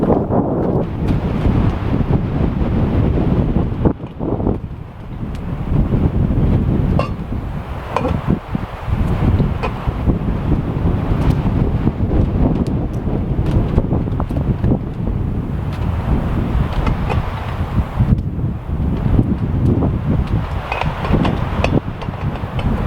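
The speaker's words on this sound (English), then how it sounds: "it is so windy out here" Strong wind blowing outdoors at an overland camp, buffeting the microphone in heavy, continuous rumbling gusts that surge and ease throughout with no voices.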